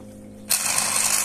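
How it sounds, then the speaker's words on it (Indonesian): A Raisun 2500 aquarium pump switches on with a faint hum, then breaks into a loud, close, rough crackling rattle that continues steadily. "mengatasi pompa akuarium yang bunyi kretek-kretek"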